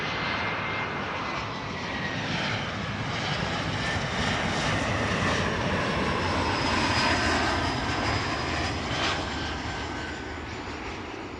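Airliners, including KLM and Southampton arrivals, approaching the airport produce a steady, moderately loud jet roar that swells gently toward the middle and fades slightly at the end, with no talk.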